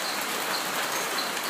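Rain falls steadily in a Costa Rican rainforest, a dense, even hiss of drops on leaves and surfaces, close and constant throughout with no voices.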